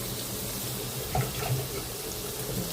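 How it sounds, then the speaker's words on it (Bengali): Water poured into a cooking pot of fresh river fish before bottle gourd is added, a steady close splashing pour with a couple of brief louder splashes, no talking. "একটু পানি দিয়ে দিই"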